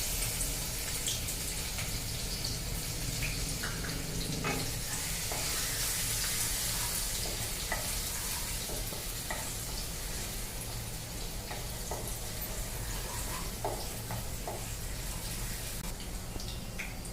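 Ginger garlic paste sizzles in heated oil with a steady, fairly quiet hiss and scattered tiny crackles throughout, with no voices.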